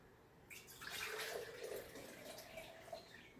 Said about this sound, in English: and then I pour my decocted elderleaf